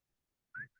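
Two short whistled notes from a person, the first longer and the second clipped, sound close and clear after near silence.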